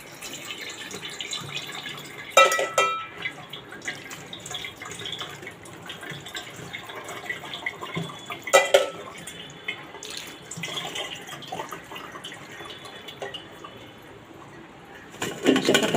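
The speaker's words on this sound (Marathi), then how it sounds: "थोडं थंड पाण्याने आपण त्याला धुवून घेणार आहोत।" Drained pasta being rinsed with cold tap water in a kitchen, with intermittent splashing bursts and dripping over a quiet background of soft trickling.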